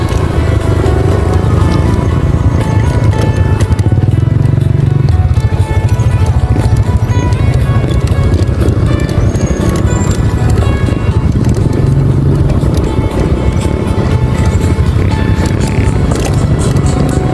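A modified motorcycle engine drones steadily and loudly throughout as it rides an extreme, rough road, with continuous rumble and road noise and no pauses.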